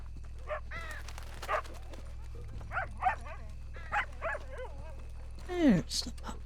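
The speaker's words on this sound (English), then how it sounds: "I hear you, puppy." A dog in the Red Dead Redemption 2 video game gives a string of short barks, yips and whimpers, spread out and fairly close, over a low steady rumble.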